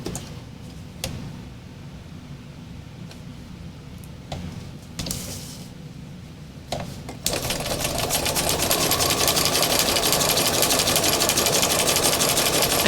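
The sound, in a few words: sewing machine stitching around edge of Yupo paper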